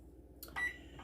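Microwave oven beeps twice, a short electronic tone repeated after a pause, while soap base is melted; the room is otherwise quiet apart from a faint low hum.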